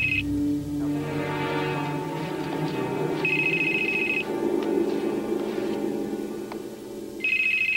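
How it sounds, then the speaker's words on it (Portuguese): A mobile phone ringtone rings in a tense scene from a 2023 horror film, sounding in repeated bursts over a low, droning music score with no talking. "Vou ligar para o celular dela."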